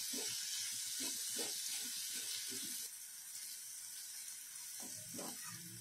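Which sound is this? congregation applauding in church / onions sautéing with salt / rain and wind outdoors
onions sautéing with salt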